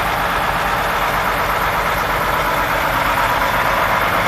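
A Greyhound bus engine idles steadily during a pre-trip check, a constant loud broadband rumble and hiss with no variation and no voices.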